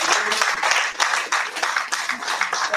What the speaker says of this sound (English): Let's give the president a big applause.